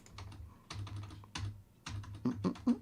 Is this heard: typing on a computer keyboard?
yes